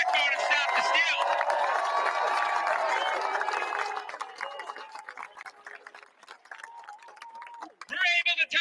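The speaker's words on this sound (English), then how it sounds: "Let's just give them a round of applause" A rally crowd claps and cheers loudly for a few seconds with shouts and whoops, then the noise fades to scattered voices and clapping before a short burst of cheering returns at the end.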